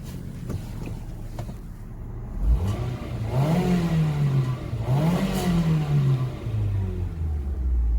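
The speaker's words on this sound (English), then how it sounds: "Let's go ahead and give it a rev." A 2003 Ford Focus ZTS with a stock exhaust and about 130k miles idles quietly, then revs twice in rising and falling sweeps before returning to a low, smooth idle, heard close and alone.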